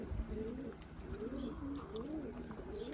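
Tumbler pigeons flying in Tekirdağ give soft, repeated low coos, faint and somewhat distant under steady outdoor background noise.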